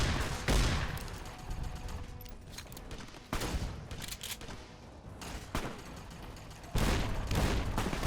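Gunfire rings out during an assault on Caesar's camp in Fallout New Vegas, with several heavy shots and bursts spread across the scene, loud and punchy, set against ongoing battle noise.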